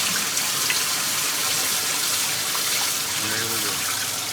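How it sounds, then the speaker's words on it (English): Water poured into the water pan of a smoker for moisture while smoking a prime brisket, a steady broadband splashing and trickling that runs throughout with a voice faintly audible near the end. "And also, we're going to add some water. About a half gallon of water."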